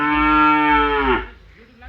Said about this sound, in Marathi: इग्नोर द गाईचा आवाज.